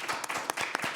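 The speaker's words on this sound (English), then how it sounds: "Can I get a round of applause for Nour?" A small audience claps for a guest at a live Friday-night talk show: a short, loose patter of separate hand claps lasting about a second, moderately quiet and without voices.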